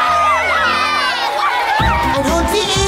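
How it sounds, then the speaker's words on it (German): A cartoon crowd cheers and whoops for a dog band performance in an animated children's show, loud bright shouting layered with music and voices throughout. "einen riesigen Applaus für Rubble und die Paw Patrol"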